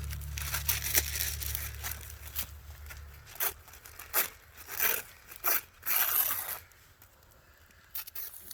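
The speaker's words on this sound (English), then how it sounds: "Wax paper." Wax paper is handled up close, producing a series of crinkling and crumpling rustles in uneven bursts, with a low hum fading out early on.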